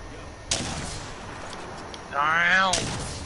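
Gunfire in the video game Apex Legends, with two sharp, loud shots about two seconds apart. A brief tonal in-game effect sits between them, and there is no talk.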